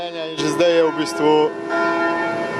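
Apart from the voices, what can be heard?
church bells ringing for a deceased villager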